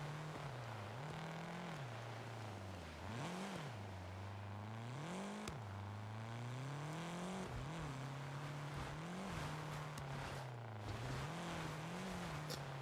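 A race car engine in a racing video game drones steadily on part throttle, its pitch rising and dipping as the driver feeds the throttle carefully, continuous and moderately loud.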